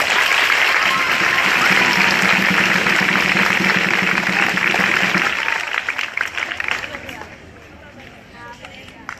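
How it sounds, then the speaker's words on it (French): Loud applause from a school crowd at an outdoor flag-raising ceremony in Yopougon, dense clapping for about five seconds before thinning out to scattered claps and a quieter background. "On applaudit d'abord, très très fort."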